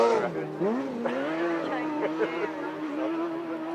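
Grasstrack racing engines at the British championships wail as the bikes pass, a rising and falling high-revving whine with shifting pitch, heard at moderate distance under crowd noise and voices.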